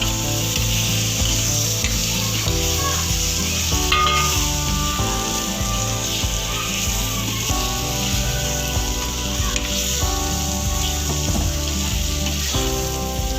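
Paneer frying in a pan with spinach and salt over low heat gives a continuous, even sizzle with occasional stirring scrapes layered over it from start to finish.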